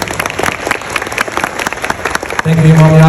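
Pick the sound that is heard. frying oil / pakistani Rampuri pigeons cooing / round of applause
round of applause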